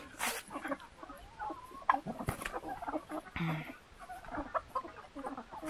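Young grey chicks cluck and peep close by as they feed on worms in a poultry flock, with scattered scratching and brief human murmurs in the background.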